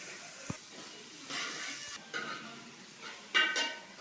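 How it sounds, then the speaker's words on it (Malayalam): Chopped ingredients sauté in hot coconut oil with fenugreek seeds in a pan, making a quiet, steady sizzle broken by occasional scrapes and clinks of stirring. "അരിഞ്ഞ് വെച്ച സാധനങ്ങളൊക്കെ ഇട്ട് നന്നായി വഴറ്റി കൊടുക്കാം."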